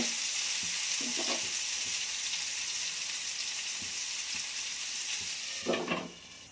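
Bitter gourd pieces frying in a pan with a steady, hissing sizzle that runs throughout, broken by a few soft stirring knocks and a louder scrape near the end, close by and with no voices.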